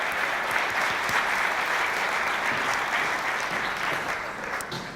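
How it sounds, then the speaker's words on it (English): A crowd at a startup pitch event in Newcastle gives a warm, sustained round of applause. The clapping is full and continuous throughout and tapers off slightly toward the end. "Round of applause for Cheryl from Horse Starter."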